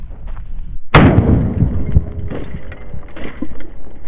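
A 5.56 pistol loaded with Federal 55 grain FMJ rounds fires a single loud, sharp shot into an old 1300-watt computer power supply, followed by a long booming decay and ringing echo.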